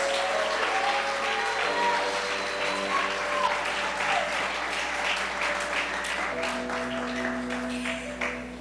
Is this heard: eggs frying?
no